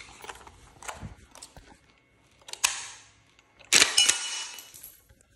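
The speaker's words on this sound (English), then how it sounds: "Let me clear this rifle real quick." Action of an AK-103 rifle being worked to clear it: a couple of sharp metallic clacks of the bolt, close and crisp, set apart by quiet handling noises.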